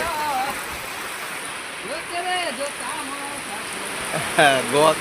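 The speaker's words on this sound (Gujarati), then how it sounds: "ધમ ધોકાર વાવાઝોડું અને વરસાદ ચાલુ થઈ ગયો" Heavy rain hisses steadily in the background with a storm wind, while several voices talk over it, near and fairly loud.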